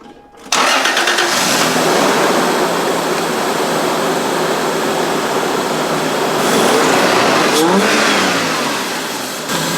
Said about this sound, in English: This is the smoothest the engine has sounded so far.